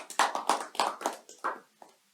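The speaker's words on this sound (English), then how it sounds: "So I think a round of applause to both of them." Sparse applause at a Toastmasters meeting: about eight quick, fairly even hand claps, thin and quiet, thinning out and stopping after about two seconds, with no talk.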